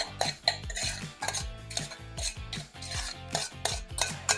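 A spoon scrapes and clinks rhythmically around a bowl, stirring sugar into homemade pizza sauce in repeated close, steady strokes with no talking.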